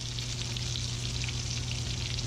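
Battered green tomatoes frying in a pan of hot oil, a dense continuous sizzle with fine crackling, close and steady throughout, no voices.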